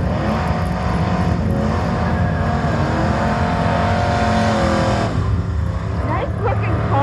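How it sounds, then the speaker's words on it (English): A red 1966 Ford Fairlane drives out at a car gathering: a loud, continuous engine roar that holds steady throughout, with a slight shift in tone near the end. "coming out with the 66 Ford Fairlane, the red model"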